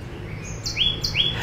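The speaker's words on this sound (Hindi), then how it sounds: "ये पक्षी जो चहचहाट कर रहे हैं" Several birds chirp nearby, giving short rising and falling high-pitched tweets that repeat a few times over a faint, steady background hiss.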